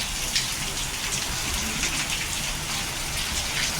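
Steady, dense rain pours onto the Lido deck of the Cunard Queen Victoria cruise ship in stormy weather. The hiss is constant and broadband, with scattered drop patter close by and no voices.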